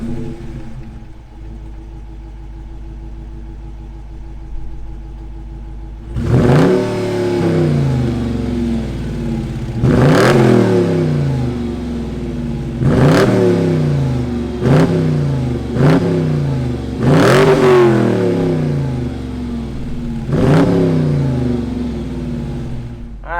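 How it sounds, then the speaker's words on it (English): A Dodge Challenger R/T's Hemi V8 engine cranks and fires up, then revs hard several times in a row, deep roaring bursts settling back to a rumbling idle between each. "Let's fire up this Hemi and hear what it sounds like."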